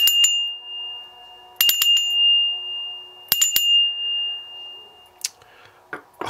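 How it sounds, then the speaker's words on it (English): A bell rings three times in evenly spaced strikes, each leaving a long, clear ringing tone that hangs in the air before the next. "I'm going to ring the bell 3 times."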